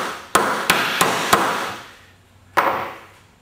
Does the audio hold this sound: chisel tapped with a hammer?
yes